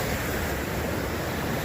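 High, rushing water roars at old mill ruins, a dense continuous wash of noise, loud and close with no pauses and no one speaking.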